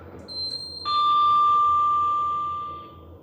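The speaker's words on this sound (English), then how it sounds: "Can we get a chime?" Arrival chime of an Orona machine-room-less elevator in a Lisbon hotel: a single clear electronic ding that rings out loudly and sustains for about two seconds before slowly fading, with no talking.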